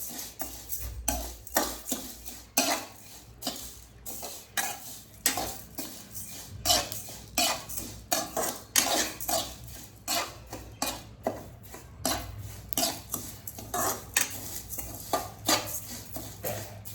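Fennel, coriander and cumin seeds dry-roast in a pan under a steady run of scraping, clinking and rattling as a utensil keeps stirring them, a busy rhythmic clatter close by with no voices.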